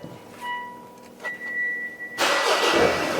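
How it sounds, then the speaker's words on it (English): A car engine whose diesel particulate filter has been removed cranks briefly, then catches and fires into a loud, broad roar, close by with no talk over it. "So let's start up the engine."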